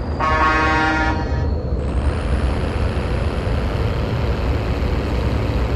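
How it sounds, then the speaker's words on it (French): A loud, sustained truck horn in Call of Duty Mobile blares for about a second, then cuts off, leaving steady engine rumble and road noise. "Il a un beau bruit, un beau klaxon."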